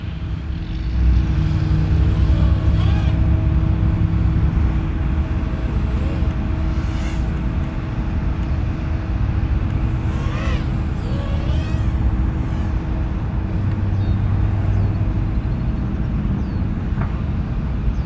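Tiny motors on a Mobula6 FPV drone converted to a toothpick frame with bigger props spin up close by, a steady buzzing whine that rises and falls with throttle changes across the whole stretch.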